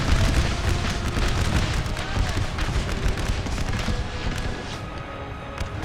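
Massed musket volleys in a Napoleon Total War battle with an American Civil War mod, rolling crackles and booms of rifle fire overlapping continuously, with someone talking over the din.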